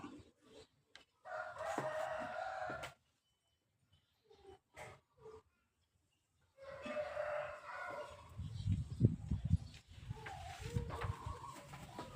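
A rooster crows repeatedly outdoors, its loud drawn-out calls separated by short pauses, with other birds and background noise in between.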